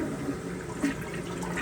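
A toilet flushing, a steady rush of water through household plumbing heard close and alone for under two seconds.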